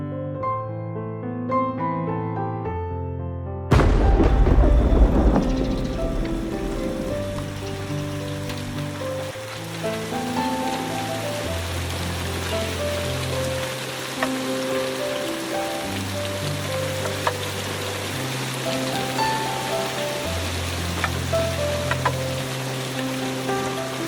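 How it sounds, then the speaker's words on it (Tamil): Heavy rain pours in Sri Lanka, a dense, continuous hiss that surges loudly after a few seconds and then holds steady, with melodic music playing underneath throughout. "இப்போ ஸ்ரீலங்காவில் வந்து நல்லா மழைக்குது."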